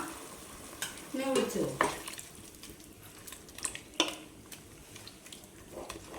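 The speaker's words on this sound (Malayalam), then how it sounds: "ഇതിലേക്ക് ഒരു മുറി നാളികേരത്തിൽ നിന്നുള്ള 2ാം പാലാണ് ചേർത്ത് കൊടുക്കാം" Second coconut milk from a coconut half poured over half-cooked chicken in a pan: a brief splashing pour and soft sizzle, followed by scattered faint stirring scrapes and clinks.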